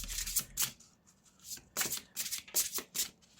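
A deck of dragon-themed oracle cards is shuffled by hand in quick, crisp riffling bursts separated by short pauses. The sound is close and fairly quiet, with no talking.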